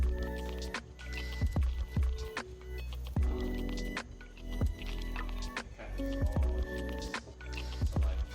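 Coolant dripping from a Nissan 370Z engine during teardown, a run of irregular wet drips and splats falling one after another over a constant background hum.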